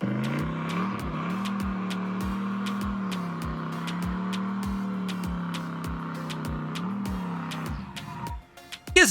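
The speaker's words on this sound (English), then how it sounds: "they're just spinning tires and making noise" A car engine drones steadily at high revs while tires with drag slicks spin on a boat ramp, with regular clicking ticks throughout, ending in a few sharp thumps.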